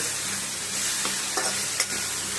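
Potatoes with ginger, garlic and salt sizzle steadily in a pan, a loud continuous fry broken by a few scraping stirs.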